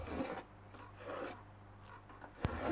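A pencil draws lines on wood to mark shelf dowel positions for a sideboard, close, soft rasping strokes in three or four bursts, then a small tap.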